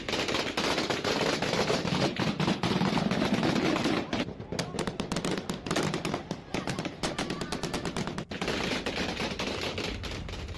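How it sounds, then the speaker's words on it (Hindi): Rapid bursts of gunfire by Taliban fighters in Afghanistan, a dense crackling rattle of shots running loud and continuous through the clip, with a noisy outdoor background. "तालिबान के लड़ाकों के गोलियों की तड़तड़ाहट की आवाज सुनाई पड़ेगी"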